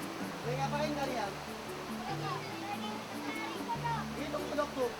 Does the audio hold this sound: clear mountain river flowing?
yes